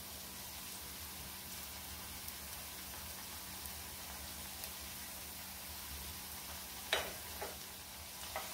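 Raw potato snack pieces sizzle quietly in hot oil in a pan on a medium-high gas flame, a steady soft frying hiss with a few light clatters as the pieces are flipped.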